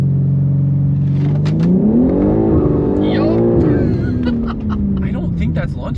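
An AWD BMW G80 M3 brake-boosts and launches hard, its engine note rising in pitch then holding as it pulls away loud and close, with someone talking over the run.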